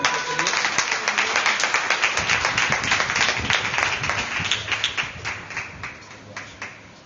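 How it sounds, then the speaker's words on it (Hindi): A church congregation claps together at a Friday prayer service after a prayer, in dense, rhythmic, lively clapping that fades somewhat toward the end. "जोरदार ताली के लिए।"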